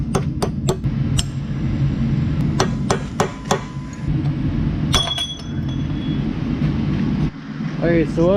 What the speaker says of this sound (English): we punched these races out